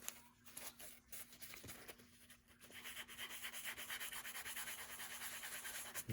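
Leather shoes being sanded by hand with 150 grit sandpaper, a soft rhythmic rubbing and rasping that turns into steady quick strokes, close and quiet with no talking.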